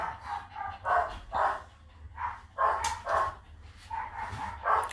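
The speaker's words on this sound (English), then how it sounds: "The barking definitely is hard sometimes. It's hard. But that's what dogs do. They bark" A dog barks repeatedly in short bursts, some higher-pitched and yelpy, close by with no one talking.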